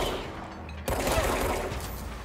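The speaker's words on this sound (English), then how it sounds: "the shooting is fun" Gunfire in the video game Control, a sudden burst of rapid shots breaking in after a quieter moment and continuing as dense, close, sustained firing.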